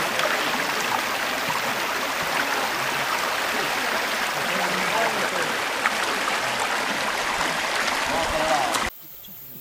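Steady rushing water fills the scene, a constant broadband roar from a nearby small waterfall in the Chagres region of eastern Panama, ending abruptly near the close.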